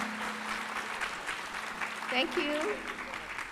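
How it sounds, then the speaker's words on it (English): A conference audience clapping for a panel: scattered, moderately distant applause that runs under a voice as he briefly thanks them. "Can we give them all a round of applause?"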